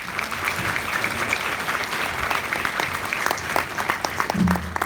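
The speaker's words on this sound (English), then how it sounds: "So I want to give him a round of applause" An audience at a sex trafficking conference in Northwest Indiana claps steadily for an introduced speaker, a dense, even patter of many hands sustained throughout with no talk over it.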